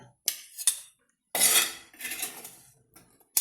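Cooked fish for a fish omelette being lifted from a pan into a bowl: a few sharp metal clinks of utensil on cookware, then scraping and clattering, close and fairly quiet with short silent gaps.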